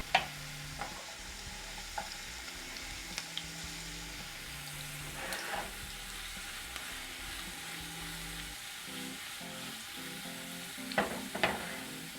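Two small diced potatoes fry as home fries in plenty of oil, giving a steady, moderately quiet sizzle with occasional light taps and scrapes of a utensil.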